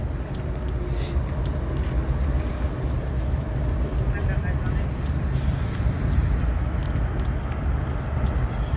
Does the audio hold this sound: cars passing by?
yes